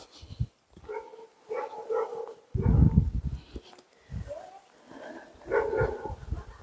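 Several dogs bark and whimper in short bursts close by, with brief quiet gaps between outbursts.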